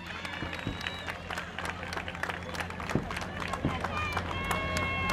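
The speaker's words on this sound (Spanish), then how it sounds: "un fuerte aplauso" Scattered, fairly quiet applause from an audience at a community gathering in Ventanilla honors a regional councillor, the individual claps sparse and uneven beneath ongoing talk.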